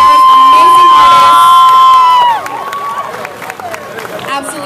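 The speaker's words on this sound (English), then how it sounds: "a big round of applause for these amazing cosplayers" A crowd at an anime convention cosplay showcase in Barbados cheers and applauds loudly with whoops and shouts, peaking early and then easing to a lower, busier murmur.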